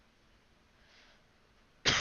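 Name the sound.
coughing into the microphone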